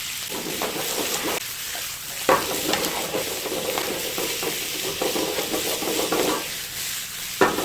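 Steady loud sizzling of meat and vegetables stir-frying in a hot pan for chopped steak, with occasional clacks of a utensil against the pan.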